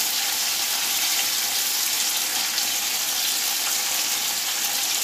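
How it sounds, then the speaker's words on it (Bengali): Lote fish (Bombay duck) pieces fry in a pan for a spicy Bengali kosha, making a steady, dense hiss of sizzling oil that carries on evenly without talk. "বেশি ভাজবো না, অল্প করে ভেজে তুলে নেব।"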